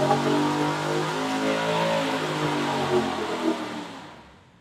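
A 416ci LS V8 revs hard on a dyno, producing a loud, sustained, steadily climbing engine roar that holds near full power before cutting off and fading away at the end.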